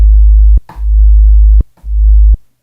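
Loud electronic tones from a Roland SP-404 MK2 sampler, three sustained low sine-like notes cut off abruptly, with brief chirpy clicks between them, no voices.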